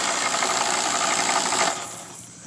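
An NV4500 manual transmission runs in first gear on a bench, its shafts spinning with a dense, even mechanical whir and rattle that fades down over the last second.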